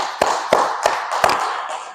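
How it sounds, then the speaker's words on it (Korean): A congregation claps four sharp, evenly spaced claps close together, loud and distinct with short gaps between. "박수 한번 칩시다."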